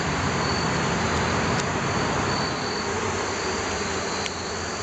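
Honeybees in an opened hive hum in a dense, steady buzz that fills the space close by, with a few brief sharper sounds on top and no voices.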